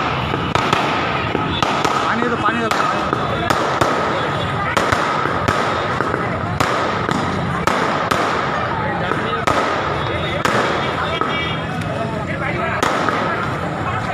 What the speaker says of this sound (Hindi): టిఆర్ఎస్ సంబరాల అపశృతి క్రాకర్స్ పేల్చుతుండగా ప్రమాదం